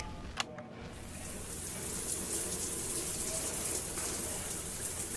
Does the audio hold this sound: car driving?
no